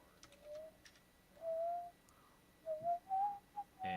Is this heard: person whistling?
yes